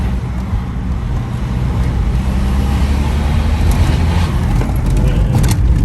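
Interior drone of a stage 2 tuned BMW 120d under hard acceleration, a loud, steady low engine and road roar throughout with faint rattles on top.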